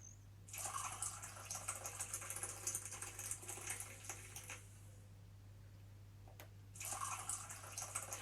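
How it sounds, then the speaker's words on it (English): Tea being poured as a sound effect: a steady, splashing liquid stream runs for about four seconds, stops briefly, then starts again near the end. It is quiet and close, with no talking. "It's pouring tea"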